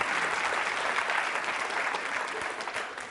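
An audience at a university quiz show claps in a dense, steady burst of applause that tapers slightly toward the end.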